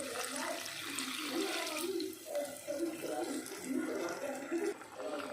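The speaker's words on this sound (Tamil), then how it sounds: "இதில் ஒரு 1/2 டம்ளர் தண்ணி சேர்த்துக்கலாம்" Half a tumbler of water pours into a pan of mango pachadi seasoned with turmeric, giving a steady close splashing and running-water wash that lasts throughout, with no talking.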